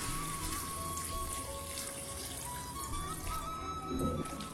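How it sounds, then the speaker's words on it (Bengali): Water pours into a cooking pot in a home kitchen, a steady splashing stream that runs continuously at moderate level with no voices. "জল দেবো আরো।"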